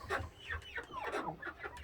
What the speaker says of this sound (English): there's an Australorp by the door